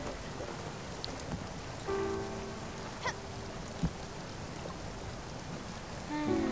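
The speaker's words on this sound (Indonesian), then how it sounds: "Wih hujan. Hujan cuy." Rain falling in the video game Spiritfarer, a steady soft patter under faint game tones, with a few sharp drop or crackle accents scattered through.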